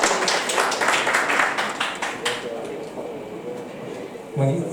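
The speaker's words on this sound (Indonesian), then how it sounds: "Tepuk tangan untuk Ibu Nita." An audience at a tax law talk show applauds, a burst of mixed clapping that fades after a couple of seconds while voices murmur and someone speaks underneath.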